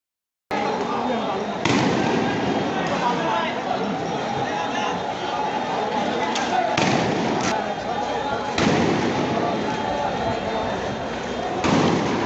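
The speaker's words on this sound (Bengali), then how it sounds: "সাধারণ ছাত্রদের দিকে পুলিশ বুলেট, টিয়ার সেল ও সাউন্ড গ্রেনেড ছুড়ছে" Police firing bullets, tear gas and sound grenades at students during a protest in Bohaddar Hat, Chattogram, heard as repeated sharp bangs over a constant crowd roar and shouting voices.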